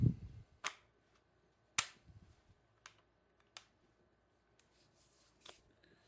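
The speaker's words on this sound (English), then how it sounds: "Just dry firing it now." A TR50 Torpedo blaster with an upgraded bolt spring is dry fired, giving about five sharp, dry snaps spaced irregularly a second or so apart, close and crisp against near silence.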